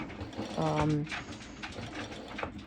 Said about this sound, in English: when you're serging the elastic, you have to go quite slow